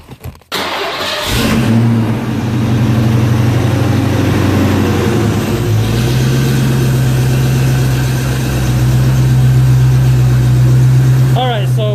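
A Foxbody Mustang engine running with a freshly installed BAMA tune settles into a steady, loud idle after a brief start, its low rumble rising slightly midway and holding close and constant throughout.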